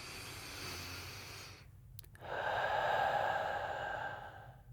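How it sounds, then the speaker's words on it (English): A deep breath during a pretend doctor's check-up: a soft airy exhale, a brief pause with a small click, then a stronger, longer inhale, close and intimate. "can you go ahead and give me a deep breath?"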